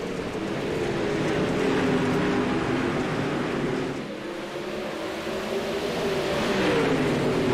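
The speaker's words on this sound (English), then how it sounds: "we're ready to go back green flag racing here for heat race number 2" Race cars on a dirt oval at Lucas Oil Speedway accelerate on a green flag restart in a heat race, a roaring engine blend that swells, dips briefly, then builds again at medium distance.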